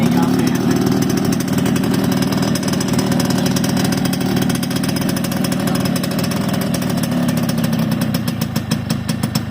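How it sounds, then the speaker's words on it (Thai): A Yamaha RXS115 motorcycle engine runs steadily close by, a dense, throbbing idle with a firm low drone that stays even throughout and turns choppier near the end. "นี่ฟังเสียงเครื่องดูแน่นๆเลยนะ ครับ"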